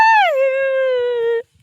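A dog gives a single drawn-out howl, close and loud, starting high and sliding down into a long steady whine before cutting off abruptly.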